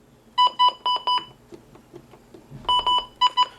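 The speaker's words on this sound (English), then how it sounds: "The button beeps they clearly sound different." A Midland WR-100 weather radio gives two bursts of four short, sharp electronic button beeps, close and clear, with faint handling clicks between them and no talking.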